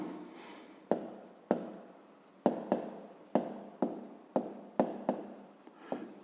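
Pen or pencil strokes on a notebook page, working through a 5th-grade math exercise: a run of about nine sharp tapping scratches at a steady rhythm, close and fairly quiet, each stroke fading quickly, with no talking.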